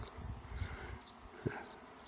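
Faint, steady insect buzzing from many honey bees being installed in a new hive, low and continuous, with a couple of brief soft thumps.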